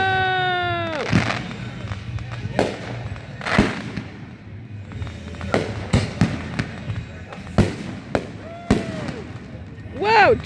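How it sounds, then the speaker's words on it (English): Fireworks burst in a rapid string of loud, sharp explosions, several crackling in quick succession with whistling rising shells, while a person calls out excitedly between the blasts. "Triple explosion!"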